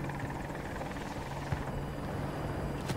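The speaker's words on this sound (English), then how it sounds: "This is how an attack chopper is supposed to be played." Attack helicopter in Battlefield 2042 Portal, a steady rotor and engine drone running continuously and fairly loud, with a faint low thump of combat in the background.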